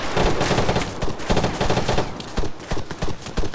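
Automatic weapons fire in ARMA 3 during an ambush, with rapid, loud bursts of cracking shots packed tightly together and continuing with short gaps, close and harsh, and no talk over it.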